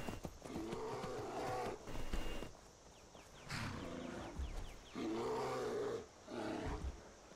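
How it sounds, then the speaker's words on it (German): A bear in the video game Skyrim growls and roars in several deep, drawn-out bouts with short gaps, fairly loud against a quiet background. "Ja, da ist wohl ein Bär."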